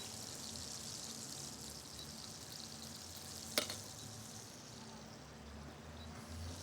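Strip steaks sizzle steadily in a hot pan, a continuous hiss with a single sharp tap partway through, at moderate level with no talking.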